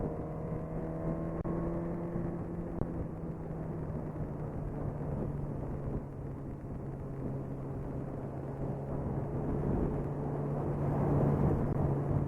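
A Suzuki GSX-R 1000 sportbike cruising in third gear at about 4,500 RPM and 50 mph gives a steady, close engine drone that holds an even pitch under constant wind rush, with no talking.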